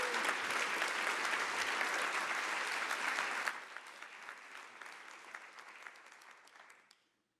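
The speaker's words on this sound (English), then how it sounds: "A round of applause as we welcome these speakers to the stage." An audience at a talks event on gender-based violence applauds as speakers are welcomed to the stage: loud, dense clapping that drops in intensity about halfway through, then thins out and stops near the end.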